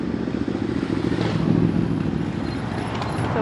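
Motorbike engines drone and rumble steadily as vehicles pass nearby in busy traffic at Matlock Bath, with no voices.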